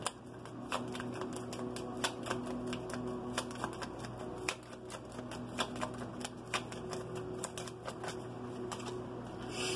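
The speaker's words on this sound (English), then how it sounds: "Show me the conversations card, please, Yehovah" Tarot cards being shuffled and drawn, a quick run of crisp papery riffles and flicks that repeats unevenly throughout, close and fairly quiet with no speech.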